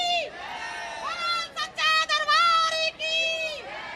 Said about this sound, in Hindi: अभी जो जयकारा सुना, पूरे जो मंदिर हैं, प्रांगण हैं, वो माता के जयकारों से गूंज रहे हैं।